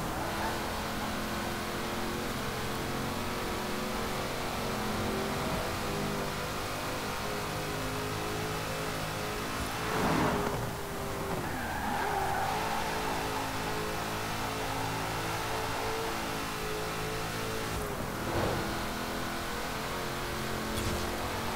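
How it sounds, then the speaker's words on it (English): A 2013 Ford Shelby GT500 with a supercharged V8 in Forza Horizon 4 runs steadily, its supercharger whine over a deep rumble. It swells briefly in two revving surges and plays on its own, with no talking. "it is still a glorious sounding supercharger whine nonetheless. And that, you know, V8 rumble underneath of it"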